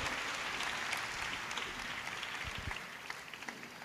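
A church congregation breaks into applause during a sermon, a broad sustained clatter of many hands that gradually eases off toward the end.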